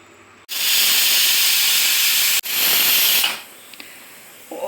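A pressure cooker vents steam in a loud, sharp hiss, briefly breaking off, then hissing again before fading to quiet.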